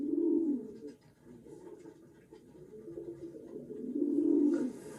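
Pigeons cooing close by, two low throaty coo phrases at the start and end with quieter murmuring and light scratching between them, no talk.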